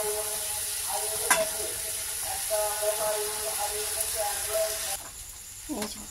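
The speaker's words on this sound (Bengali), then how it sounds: "এবার এটা দেখো নাড়ছি ভালো করে।" Boiled chow noodles being stir-fried with vegetables and spices in a hot pan, giving a steady close sizzle with scraping stir strokes, a sharp clank near the start, and the hiss fading toward the end.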